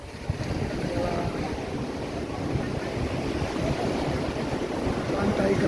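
Steady surf and gusting wind at a free public beach in Singkawang, with constant broadband wash and low rumbling wave noise throughout, buffeting the microphone slightly and holding a fairly even level.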